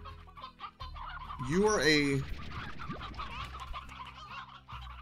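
Chickens cluck in the video game Slime Rancher, with one short, rising squawk-like burst in the middle of the clip and a person talking faintly in the background.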